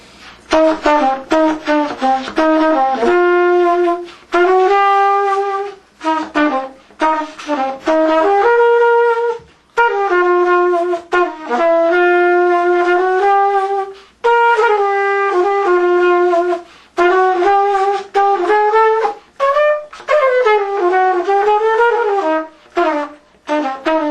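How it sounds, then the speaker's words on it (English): A solo jazz melody played with swing, a lilting, bouncy rhythm, notes bending and sliding in swung phrases, close and unaccompanied, with brief gaps between phrases. "which is to swing, which is to play with a rhythmic lilt"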